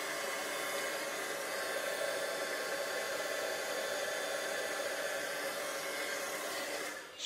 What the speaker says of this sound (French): le pistolet chauffant a vraiment la bonne température pour